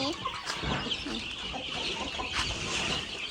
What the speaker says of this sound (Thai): ไก่ตัวนี้เป็นใหญ่